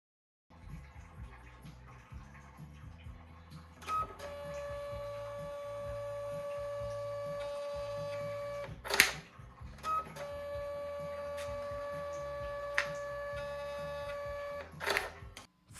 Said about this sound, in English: Simply attach a printer for labels